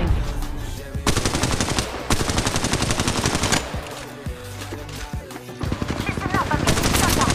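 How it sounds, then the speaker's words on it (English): Automatic gunfire in Apex Legends Mobile rattles loud and dense in long sustained bursts, broken by short pauses and scattered single shots. "I'm spotted, taking fire."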